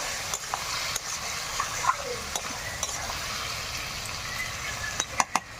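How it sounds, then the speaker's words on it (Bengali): A spatula stirs a tengra fish curry with vegetables in a sizzling pan, steady frying hiss beneath repeated scraping knocks, close and moderately loud, with a quick cluster of clatters near the end. "তো ঢাকাটা খুলে রেখে নেবো আর একটু নাড়িয়ে দেবো।"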